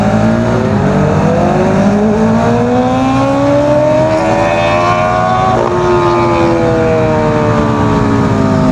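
A superbike passes ahead on the road, its exhaust note rising and falling in pitch as it goes by, loud and continuous over steady traffic and wind rush, no talk.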